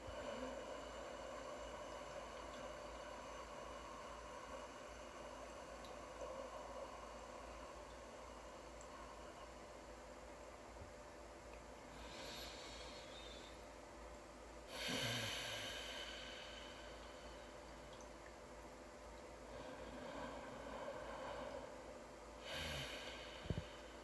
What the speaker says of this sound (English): And hold. Slow, controlled exhale.